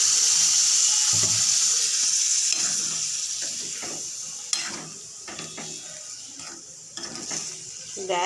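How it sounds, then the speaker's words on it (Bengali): Water pours from a tap or jug into a pan of kabuli chola (chickpea) curry, a steady splashing gush with faint clinks and mechanical rattles, loud at first and easing off gradually. "এই তো একটু জল দিয়ে দিলাম যাতে সুন্দরভাবে গ্রেভিটা তৈরি হয়ে যায়"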